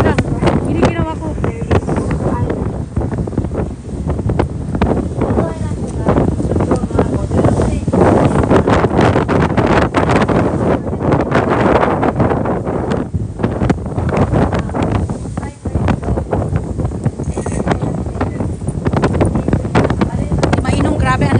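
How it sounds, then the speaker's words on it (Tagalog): Strong wind roars and buffets the microphone continuously, with rough gusting rumble throughout and voices faintly audible underneath. "Ang lakas ng hangin."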